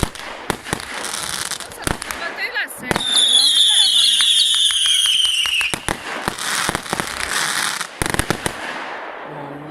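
New Year's fireworks explode in repeated sharp bangs and crackles, with a long whistling screech rising midway, while people nearby talk over the blasts.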